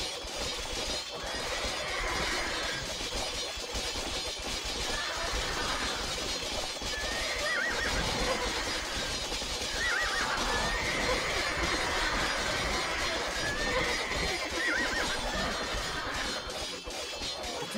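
Knights' horses in Age of Empires II battle whinnying repeatedly over a dense, continuous roar of galloping hooves and clashing combat, loud and steady throughout.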